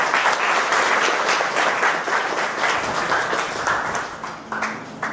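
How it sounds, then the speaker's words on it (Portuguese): Audience applause at a Brazilian community event honoring a teacher and former councilwoman, a dense steady clapping from a crowd that holds loud for several seconds and then begins to thin toward the end. "Uma salva de palmas para ela."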